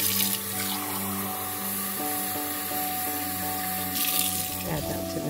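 Steady stream of water running from a tap, continuous and close, with some clinking and faint rubbing over it.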